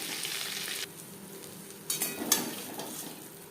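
Prawns stirred and frying in a hot pan give a steady close sizzle, with a louder burst of scraping and spluttering partway through as they are turned.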